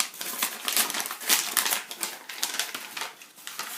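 Small paper envelope from a Terra Mystica Fire & Ice board game box being handled, giving a steady run of close, crisp crinkling and rustling with a few sharper crackles, with no talk over it.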